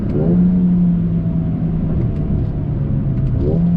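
A 2021 Mercedes-AMG GLA 35 performance SUV accelerating hard once the turbo boost kicks in. The engine drone climbs steadily in pitch, with a quick shift near the end, heard from inside the cabin as a continuous, loud rumble with no voices.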